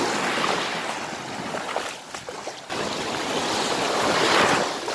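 Black Sea surf on a quiet beach in Odesa region, with a steady broad wash of breaking waves swelling and receding, close and fairly loud, without voices.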